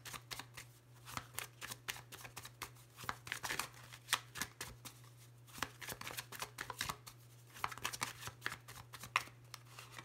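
A deck of Lenormand oracle cards being shuffled by hand, repeated crisp riffling bursts in an irregular rhythm, close and clear over a low steady hum, with no voices.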